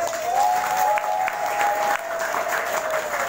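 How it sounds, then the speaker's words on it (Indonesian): Audience applause at an Indonesian Maulid gathering honoring a pesantren leader and his family, a dense, steady wash of many hands clapping, fairly close and uninterrupted. "Tepuk tangan dong."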